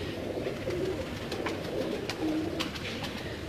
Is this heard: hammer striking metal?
no